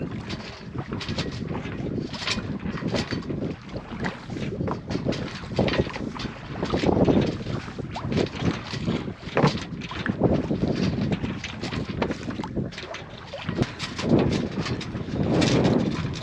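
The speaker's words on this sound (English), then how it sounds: "Not sailing very fast, but it's still sailing." Westerly Konsort sailboat moving slowly under sail on a solo outing, with steady wind buffeting the microphone and water washing and slapping against the hull in uneven surges, no talking.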